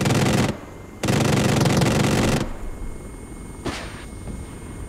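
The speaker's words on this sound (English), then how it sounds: "Someone's shooting at me." Video-game gunfire during a military unit training session comes in two dense sustained bursts of rapid shots, then a single sharp report follows amid quieter background noise.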